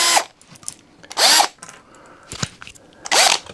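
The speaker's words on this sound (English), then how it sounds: "So we're going to drill that with this." A power drill boring a hole for an idler arm sleeve on a Prusa XL 3D printer part, in three or four short whirring bursts close by with quiet pauses between.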